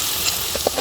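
Masala frying in a pan for a Tulu-style nerthe (clam) sukka, with chilli and coconut, giving a steady close sizzle with a few brief soft bubbling pops over the short span.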